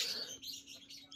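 Diamond doves at a bird farm give a short run of soft, high chirping calls, faint and close, with no talking over them.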